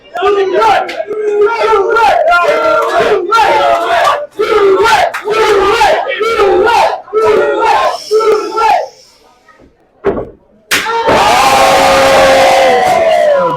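A wrestling crowd at a Halloween show chants and whoops in loud rhythmic bursts, calling for another chest chop, then falls nearly silent before erupting again into a sustained roar.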